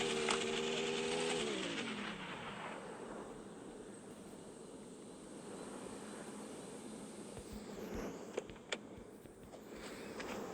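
A car engine in a driving video game rises and then settles into a steady, faint drone, with a few soft clicks near the end.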